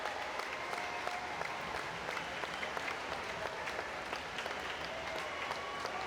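Loud, sustained crowd applause and cheering fill a natatorium at a 6A state high school swimming championship in Oklahoma, a dense steady roar with scattered claps throughout and no pauses.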